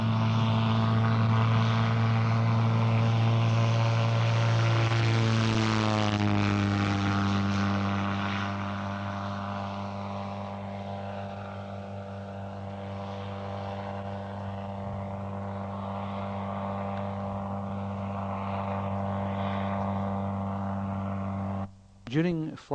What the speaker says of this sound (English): This time Peter has decided to take off downwind